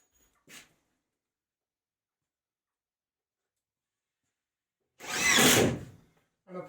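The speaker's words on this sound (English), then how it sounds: "And I'm putting lots of screws in because the screws are only 35mm long." A power drill drives short 35mm screws into a plasterboard ceiling beam on a farm in central Portugal. A brief whirring blip is followed by silence, then a louder, longer spin of the screw going in.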